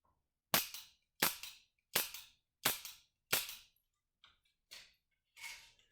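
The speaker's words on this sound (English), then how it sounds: "you should practice loading, unloading your revolver, and dry firing" A revolver dry-fired with snap caps gives a series of sharp, close hammer clicks, five evenly spaced crisp snaps followed by a few softer clicks, alone in a quiet room.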